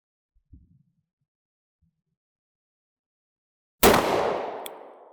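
A single sharp, loud gunshot from a .38 Special snub-nosed revolver, with a crisp crack and a decaying tail of echo. A few faint handling clicks come before it.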